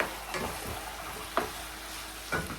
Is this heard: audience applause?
no